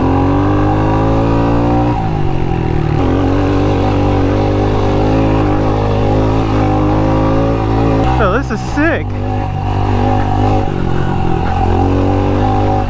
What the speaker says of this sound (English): Just going to ride the pit bikes on the trails.